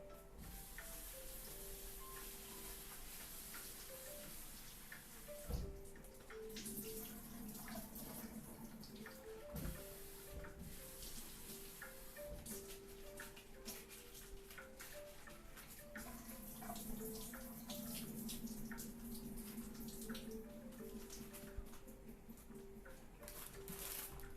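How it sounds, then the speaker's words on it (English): Steady running water from a kitchen tap rinsing out a bowl while cooking chicken and miso tofu soup, a continuous soft splashing hiss with a few clunks and knocks along the way. "Now we're gonna add some water and rinse it out."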